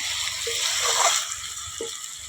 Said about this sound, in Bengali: ওগুলো একটু জল দিব।